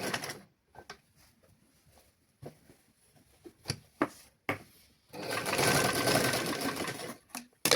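A sewing machine stitches a pillow cover in a tailoring lesson, running in a steady, loud whirring burst for about two seconds after a series of scattered clicks, taps and quiet handling sounds.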